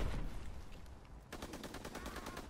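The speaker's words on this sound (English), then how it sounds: "Big gunfight right here." Rapid machine-gun bursts and scattered rifle shots crackle in a WW2 video game battle, fairly faint and distant, with a brief lull before a denser, steady rattle of automatic fire.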